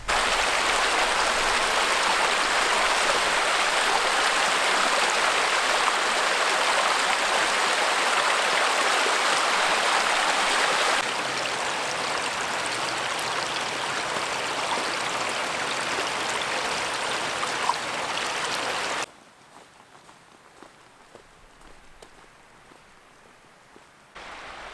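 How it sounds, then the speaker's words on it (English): Steady rushing of Boulder Creek flowing nearby in the Superstition Wilderness, a broad continuous wash of water that dips in volume partway through and drops much quieter near the end. "it sounds like Boulder Creek is running pretty good."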